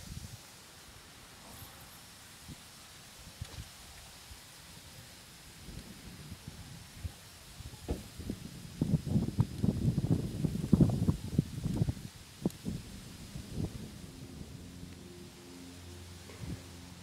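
Cold, blustery wind buffets outdoors at a fishing lake, with low rumbling gusts that build to a louder stretch in the middle before easing back to a steadier rush.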